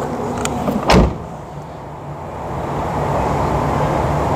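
A Ford Fiesta Mk4.5 door slams shut once with a solid, close thump, followed by a low outdoor rumble.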